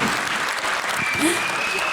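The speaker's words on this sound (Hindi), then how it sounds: "जोरदार तालियां एक बार फिर से" Loud applause from a crowd at a motivational speaking event in Jaipur, a thick, continuous wash of clapping held at a strong, even level throughout.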